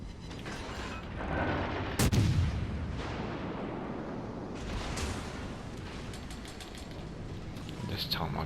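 Naval guns of the cruiser USS Helena firing in the video game World of Warships Legends, one loud booming salvo followed by rumbling blasts and a constant low engine drone.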